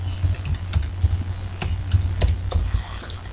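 Rapid keystrokes on a computer keyboard click close and clear in an irregular rhythm, with no one speaking.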